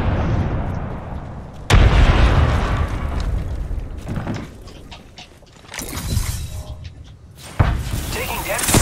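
Frag grenade explosions in the battle royale game Apex Legends, a sudden loud blast followed by later bursts and crackling gunfire, with a voice talking intermittently among the noise.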